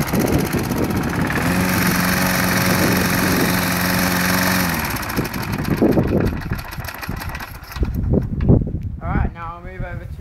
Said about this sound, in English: move on to Briggs and Stratton 4 horsepower lawnmower